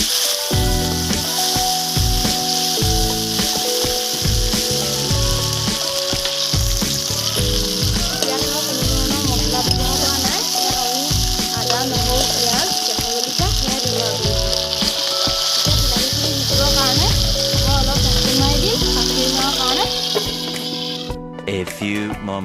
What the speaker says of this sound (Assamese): এতিয়া বিলাহীখিনি ভাজি লওঁ সম্পূৰ্ণকৈ।